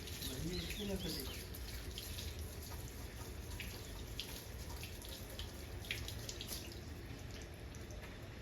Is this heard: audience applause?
no